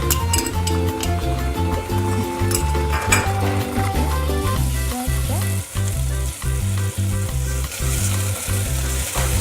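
Ginger garlic paste frying with onions and dried spices in a pan, a loud continuous sizzle with occasional clinks of a utensil against the pot, no speech.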